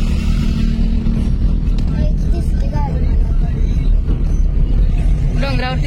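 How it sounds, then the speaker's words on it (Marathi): A car climbs a hill road near a village temple, its engine a steady low rumble throughout from inside the vehicle, with voices talking over it. "आपली गाडी डोंगरावर चालली आता"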